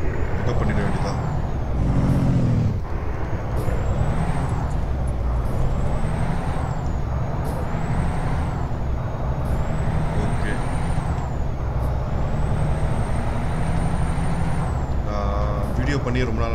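Air brake hiss from a truck parking in American Truck Simulator, heard over a steady loud diesel engine drone, with a brief burst near the start and tones rising and falling throughout, no talk.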